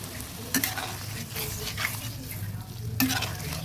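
Boiled taro dropped into fish head curry cooking with spices in a pan, a gentle sizzle and stirring scrapes with a couple of louder clatters from the spoon.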